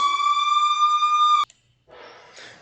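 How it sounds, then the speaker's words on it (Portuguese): A school siren holds one steady, loud, electronic tone for over a second, then cuts off abruptly, leaving faint background noise behind. "Desculpa aí pela sirene"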